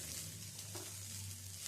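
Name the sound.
grated ginger and dalia stir-frying in a pan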